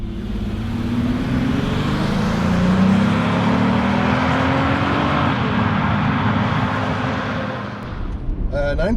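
An Acura MDX SUV, a heavy vehicle well over two tons, accelerates hard from a standstill to 60 mph. Its engine note climbs steadily through the gears with a loud, continuous roar that fades slightly near the end.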